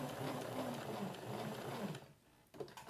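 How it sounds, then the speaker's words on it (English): A sewing machine runs steadily, stitching a seam on a beginner cooling neck wrap, its hum continuous for about two seconds before stopping briefly, then starting again. "Roll our needle down. I'm going to stitch."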